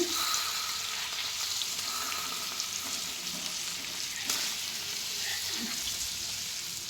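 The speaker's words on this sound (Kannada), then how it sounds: "ನೋಡಿದ್ರಲ್ಲ ಎಷ್ಟು ಸಿಂಪಲ್ಲಾಗಿ ಫಿಶ್ ಫ್ರೈ ಮಾಡ್ಕೋಬೋದು" Fish coated in masala fries in a pan on a home stove, giving a steady close sizzle with occasional light stirring clicks throughout, no voices.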